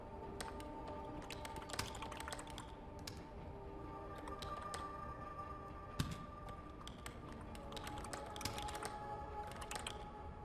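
Keys clatter during data entry in a video game, brisk irregular bursts of typing with short pauses and an occasional harder tap, soft and close-miked.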